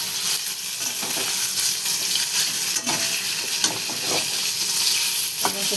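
Paneer fries in oil in a small kadhai, a loud, continuous sizzle and crackle with occasional stirring scrapes and brief spits, no voices.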